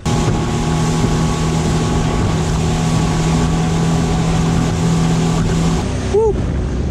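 Loud, constant wind roar buffets the microphone over a droning boat engine on the sea while fishing, continuing steadily before cutting off near the end.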